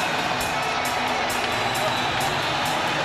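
Spectators at the Arturo Gatti versus Leonard Dorin boxing bout keep up a steady, loud roar of cheering that fills the arena, with a voice speaking over it.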